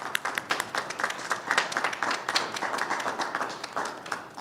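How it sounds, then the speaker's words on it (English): Audience applause in a city hall room during a landlord education event, a modest crowd clapping steadily with individual claps audible throughout at moderate volume. "Let's give them a round of applause."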